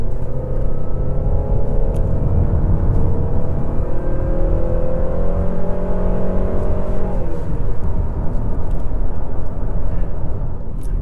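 A 2020 Honda Civic EXL pulls hard with its automatic gearbox in S mode, the engine drone climbing in pitch and then dropping as gears change, a steady close-up cabin rumble with no one speaking.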